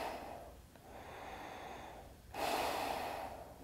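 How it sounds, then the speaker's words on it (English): Close, heavy breathing through a respirator mask during mirror-coating work, a hissing inhale and a louder rasping exhale that sound mechanical, like a sci-fi villain's breath. "I just get to sound like Darth Vader breathing through this thing."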